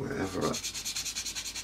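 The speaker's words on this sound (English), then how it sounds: "all we're going to do with a very fine sanding stick" A very fine sanding stick rubs across an Eduard 1/48 Spitfire plastic scale model in quick, even back-and-forth strokes, faint and close, after a brief word of speech.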